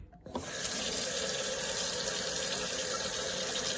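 Water from a tap starts after a brief quiet moment and then runs steadily and loudly for washing, a continuous close gush with no voices over it.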